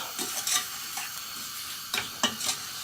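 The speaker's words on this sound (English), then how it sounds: "make sure that we keep stirring this in order to caramelise the fruit" Apricot and mango caramelising in a pan while being stirred, a continuous light sizzle broken by several scraping strokes of a utensil against the pan, close up with no talking.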